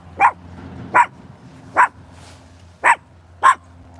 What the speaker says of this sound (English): There's a dog, you guys.